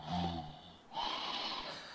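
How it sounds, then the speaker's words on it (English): Totoro character in a VRChat world snoring, two slow drawn-out snoring breaths with a raspy, wheezy edge, moderately close with no speech. "There he is, Totoro himself, snoring away."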